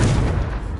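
A Confringo blasting spell bursts in Hogwarts Legacy, a short, heavy, booming detonation with a dense low rumble that fades quickly.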